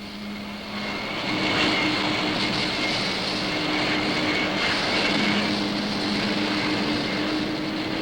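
An F-111 swing-wing fighter jet on its first test flight in the 1960s, heard as a steady, loud engine roar that holds for about eight seconds with no talking.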